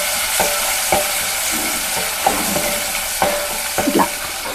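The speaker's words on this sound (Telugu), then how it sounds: "ఇది మంచిగా కలపాలి." Egg curry with turmeric being stirred in a pan, a steady close sizzle punctuated by repeated clinking scrapes of a spoon, roughly once a second.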